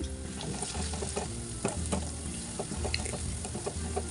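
Spatula scraping and clinking as red chili powder, coriander powder and pav bhaji masala are stirred into a frying pan, with steady sizzling beneath repeated metallic taps.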